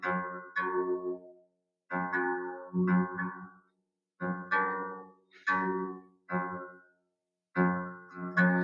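Repeated sustained tones from two slightly detuned strings, each swelling and dipping in a wavering wah-wah pulse as the close pitches beat against each other, faster as the pitches move apart, with short silences between notes.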